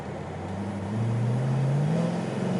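A modified Chevy Caprice police car with open exhaust, its engine droning low, then revving upward in a smooth, rising pull that grows louder and holds near, with no one talking.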